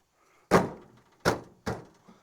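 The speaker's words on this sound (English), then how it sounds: "I can't open the door." Stuck door of a rusty 1977 Dodge Adventurer truck being tried, three close hollow metallic thunks in quick succession, alone.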